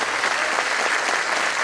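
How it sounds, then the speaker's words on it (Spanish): Steady applause from the congregation at a Catholic mass for the Virgen del Carmen feast in Pelarco, honouring the authorities; dense, continuous clapping throughout, fairly loud and even, with no voices standing out. "Un aplauso para las autoridades."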